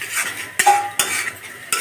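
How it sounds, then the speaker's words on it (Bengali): Ground turmeric, chili and cumin, loosened with a little water, fry in a pan while a utensil scrapes and knocks against the metal in several close, loud strokes over a light sizzle. "এখন মশলাগুলি কষিয়ে নিব।"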